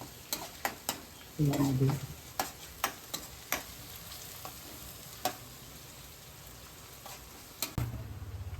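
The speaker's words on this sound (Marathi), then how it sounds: "तर आपण लसूण टाकू." Minced garlic, ten to twelve cloves, drops into a hot pan for a crab recipe and sizzles in a short burst, then again near the end, between sharp clicks and stirring taps.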